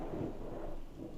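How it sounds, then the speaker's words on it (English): A long, rolling rumble of thunder with rain, loud and steady across the whole stretch with no voices over it. "I heard that thunder this time."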